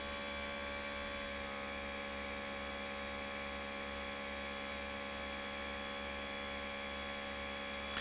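A water chiller for PC cooling runs at maximum power about half a metre away, giving a steady, unbroken mechanical hum with a faint airy whir on top, alone and constant throughout.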